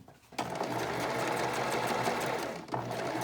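A sewing machine stitches knit fabric for a dress in a steady, close, loud run, stopping briefly before starting up again.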